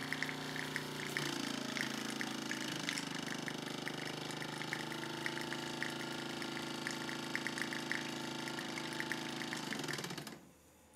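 A Mamod model steam roller running on alternative fuel in a workshop, a close, steady rapid chuffing and mechanical clatter with a hissing undertone that runs evenly before cutting off near the end.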